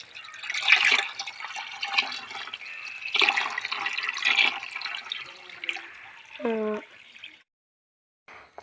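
Water runs from a pipe into a home fish tank, a steady splashing wash that continues for several seconds, then stops abruptly near the end; a brief voice is heard toward the finish.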